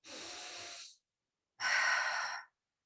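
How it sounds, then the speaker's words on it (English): Breathing during a guided meditation at a happiness retreat, two close, clear breaths, a steady airy rush then a stronger one after a short silent pause. "breathe in"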